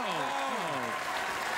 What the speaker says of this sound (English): Please clap! Please clap! Please!